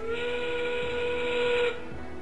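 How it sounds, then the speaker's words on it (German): A steam whistle signal sounds in the video game Die Reise ins All, one sustained, steady shrill blast with a hissing edge that holds for almost two seconds and then cuts off, leaving a faint background hum. "Der pfeifende Dampf gemahnt uns, alles für die Ankunft der Herren bereitzuhalten."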